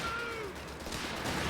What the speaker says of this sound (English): flanking the machine gun and the flak